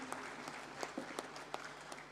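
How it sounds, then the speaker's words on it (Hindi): Sparse, faint clapping at a national cooperative banks conference as an award goes to Tamil Nadu State Apex Cooperative Bank, a handful of distinct hand claps spaced irregularly over a low steady hum. "Please put your hands together."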